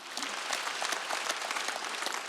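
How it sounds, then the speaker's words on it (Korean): A church congregation at a Wednesday worship service claps in a brief, dense, even burst that fills the whole moment, with no voices on top. "박수야."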